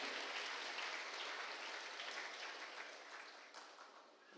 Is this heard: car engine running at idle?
no